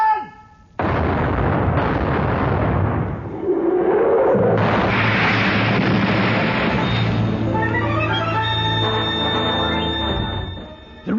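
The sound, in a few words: ship's cannon broadside firing in an audio drama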